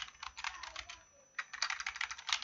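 Rapid clicking of keys on a computer keyboard while entering condition text into a spreadsheet cell, a close, steady burst of keystrokes with a short pause before typing resumes.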